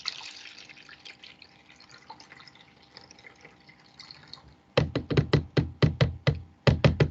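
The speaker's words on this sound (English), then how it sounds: "pour all the water from the containers back into the original beaker" Water runs from small containers back into a lab beaker as a soft trickling stream, then breaks into a quick series of sharp, loud drips and splashes toward the end, with no talk.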